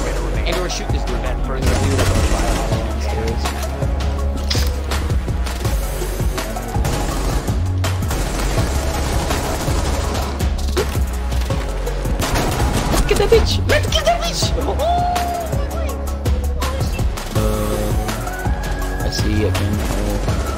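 Gunfire in the Rainbow Six Siege video game, with loud, dense bursts of shots running continuously for about twenty seconds, mixed with game noise and occasional chatter.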